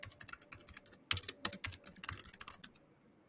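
Quick bursts of typing on a computer keyboard, with rapid, uneven key clicks that pause briefly near the start and stop near the end, leaving a short quiet tail. The clicks are close and crisp, with no voice.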